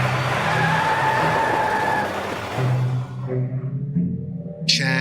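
A car speeds off into a dark night, its engine roaring loud and steady before fading quickly into the distance, with a brief squeal at the very end.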